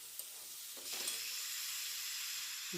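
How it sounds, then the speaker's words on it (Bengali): Water poured into a hot pan of potato and tomato curry, giving a steady close sizzle and hiss that swells after a short quiet start and holds loud to the end, with no voices. "এই সময় এবার আপনারা একটু এর মধ্যে জল দিয়ে দেবেন"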